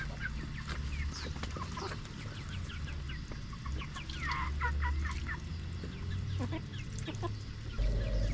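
Backyard chickens cluck and squawk busily at feeding time, many birds close by calling in overlapping bursts over a steady background rumble, with no speech.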